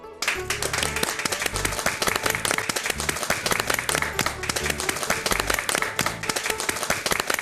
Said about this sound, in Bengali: হাততালি দিয়ে সম্মান জানাই